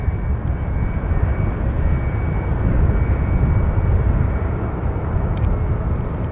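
Heavy jet airliner landing at SFO, a deep, continuous engine roar rumbling loudly at close range and holding steady throughout without any voices.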